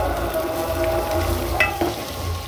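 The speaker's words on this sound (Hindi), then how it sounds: "इसको भी हम फ्राई कर रहे हैं अच्छे से। इधर ये भी फ्राई हो रहा है और ये भी फ्राई हो रहा है।" Steady sizzling and frying of besan with beans, onion, green chili and curry leaves in a pan, a continuous close crackle with a few light stirring clicks.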